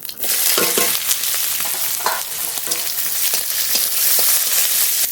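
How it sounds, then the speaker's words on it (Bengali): Onion, garlic, cumin, ginger and green chilli fry together in a pan, a loud, close sizzle mixed with repeated scraping and stirring strokes throughout. "পেঁয়াজ রসুন জিরে আদা কাঁচা লঙ্কা সব একসঙ্গে ভেজে নেব"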